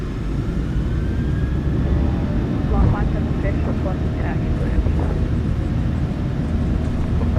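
Boeing 737-800 jet engines in a LOT livery flight simulator spool at takeoff power, a steady loud broadband roar filling the cabin throughout, with faint cockpit callouts and a voice talking over it.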